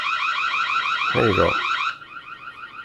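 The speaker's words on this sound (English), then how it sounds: "This is the trigger audio alarm." A Reolink Argus PT Ultra security camera sounds its triggered audio alarm, a steady warbling electronic siren that is only moderately loud, with a short spoken phrase over it midway before the tone eases to a quieter pattern.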